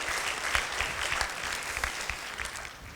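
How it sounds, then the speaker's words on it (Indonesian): Lively applause from an audience at an ISP networking presentation, a crowd clapping steadily and fairly close for a few seconds, with no voices over it. "Beri tepuk tangan yang meriah."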